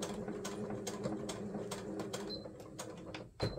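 A sewing machine stitches down a fabric seam on a fabric snippet roll, a rapid, even mechanical clatter with a humming motor. It is close and runs continuously, with a short bump near the end.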